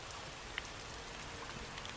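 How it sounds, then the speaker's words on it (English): Even, steady patter of rain in the 2D survival game Starbound, a soft continuous hiss of drops with a faint click near the start and no voices. "And it's raining, which is usually a bad sign."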